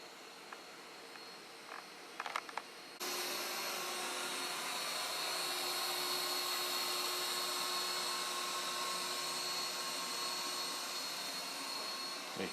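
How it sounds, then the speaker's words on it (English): Ecovacs robot vacuum cleaner starts up and vacuums carpet in a rumpus room, a sudden steady whirring drone with a high whine that holds constant after a few quiet seconds. "it has commenced vacuuming"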